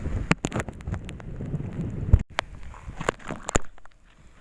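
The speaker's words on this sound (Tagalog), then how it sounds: "Malakas na yung hangin." Strong gusty wind on a fishing trip buffets the microphone in rumbling low bursts, with a few sharp knocks and clatters breaking through near the end.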